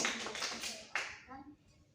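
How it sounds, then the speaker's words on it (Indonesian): Brief classroom applause for a student, quick hand claps rising then fading over about a second and a half, with a voice speaking over the tail. "ayo tepuk tangan dulu buat Ilham"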